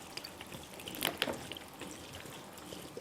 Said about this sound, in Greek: Και τώρα βάζουμε και το νερό μας.